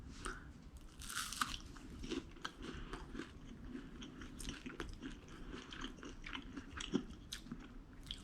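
Crunchy Weet-Bix is chewed close up, with a steady run of loud, dry crunching bites continuing throughout, no talking.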